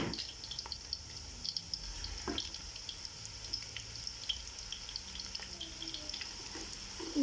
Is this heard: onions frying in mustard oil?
yes